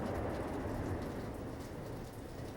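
Steady rain falls in a dense, continuous hiss with a low rumbling undertone, constant and moderately loud throughout without any voices.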